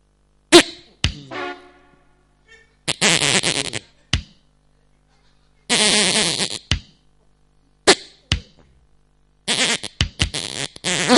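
A man's farts come in a series of short bursts, some sputtering and others longer and buzzy, separated by silent gaps. They are loud, close and alone, with no talk.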